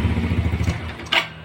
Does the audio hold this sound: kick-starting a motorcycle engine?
yes